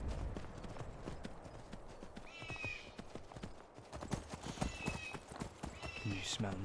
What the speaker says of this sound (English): Oops, I'm sorry, pushed your horse, Lydia.